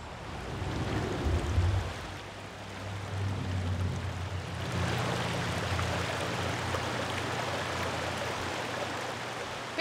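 Small creek in the Upper Esopus Creek watershed rushing over cobbles and boulders, a steady broadband wash of flowing water throughout, with a low rumble in the first half.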